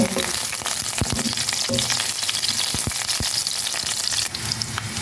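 Ginger and garlic frying in a pan for pinakbet, a loud close sizzle with several sharp utensil clacks and scrapes against the pan.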